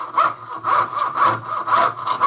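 A jeweler's saw cuts metal plate held flat over a wooden bench pin, making steady rhythmic rasping strokes, about four to five back-and-forth passes, close and loud with no talking.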